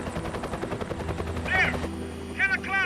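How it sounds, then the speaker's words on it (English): A rescue helicopter on Hinchinbrook throbs with a steady rhythmic rotor chop, close and loud, while someone shouts urgently over it. "Helicopter's still one of my favourite sounds."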